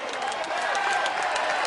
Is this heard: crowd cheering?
yes